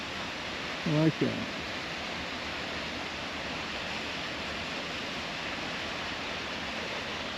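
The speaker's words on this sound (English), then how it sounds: "This is a creek going to the top of the waterfall." A Yellowstone creek rushes toward the top of a waterfall, a steady broad roar of flowing water that fills the scene throughout, with a brief spoken remark early on.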